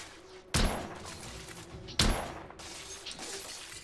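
Two sharp, loud gunshots about a second and a half apart in The Order: 1886 video game, each with a short decaying tail over a low background hum.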